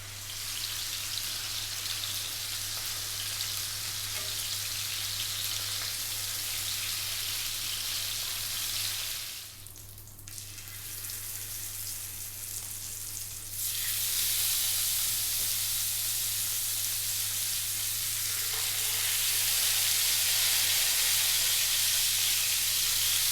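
Pieces of rohu carp searing in a pan for a fish curry make a continuous, even hiss and sizzle that briefly softens midway, then returns louder and steady to the end.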